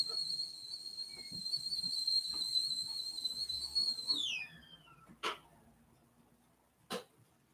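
A person whistles a sustained, high melodic tone for about four seconds, ending in a downward slide, followed by two short, sharp sounds like coughs or clicks.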